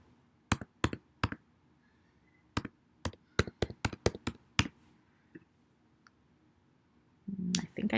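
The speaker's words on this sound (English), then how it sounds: "I type my username" Keystrokes on a computer keyboard as a username and password are entered, a sparse run of about a dozen crisp, close clicks with short pauses between them, then a brief burst of louder handling noise at the end.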